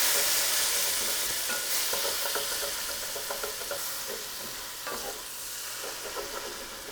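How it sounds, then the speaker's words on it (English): Food sautes in a pan, a soft continuous sizzle with light stirring scrapes and clicks, fading slightly over time, alone with no talk. "I'm gonna let these saute for about 3 minutes"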